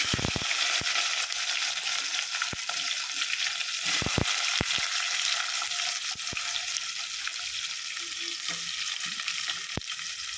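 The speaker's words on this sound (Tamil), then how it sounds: "கடுகு சோம்பு சீரகெல்லாம் இப்போ வந்து வெங்காயமும் பூண்டை போட்டு" Onion and garlic fry in oil with mustard seeds, fennel and cumin for a fish curry, producing a loud continuous sizzle with sharp crackling pops scattered through it, close up and without talk.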